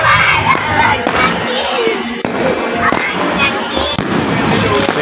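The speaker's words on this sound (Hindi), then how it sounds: "फटाके फूटने शुरू हो गए जगह जगह।" Fireworks and firecrackers burst continuously from many directions during a Pakistani Independence Day celebration in Wazirabad, loud and dense, with crowd noise and children shouting mixed in.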